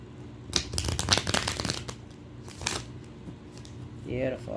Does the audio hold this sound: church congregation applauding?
no